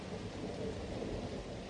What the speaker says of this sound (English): During the night, a drizzle of rain dampened the waiting armies.